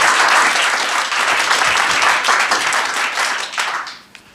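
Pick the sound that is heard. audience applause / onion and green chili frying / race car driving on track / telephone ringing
audience applause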